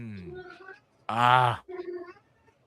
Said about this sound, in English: Shut up, Rocket Kitty.